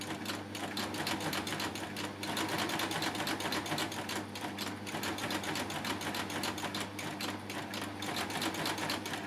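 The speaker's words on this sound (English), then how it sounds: "I'd rather stitch slowly than go quickly and have to unpick." A Baby Lock sewing machine stitching a lap seam through a folder attachment, running slowly with a steady, rapid mechanical chatter of needle strokes, close and continuous throughout without talk.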